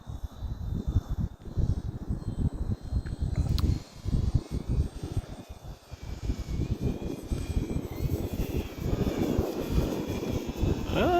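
A Hobbyzone Carbon Cub S 2 1.3m RC airplane flies and climbs outdoors on a windy day, its motor a steady buzzing drone over broadband wind rumble that continues for the whole stretch.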